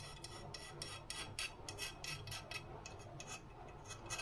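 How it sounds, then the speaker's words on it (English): A razor blade scrapes paint off metal during work on a 1976 BMW 2002 engine assembly, making a series of rhythmic, rasping strokes, close and fairly steady, with no voices. "you just go along and scrape off the paint with"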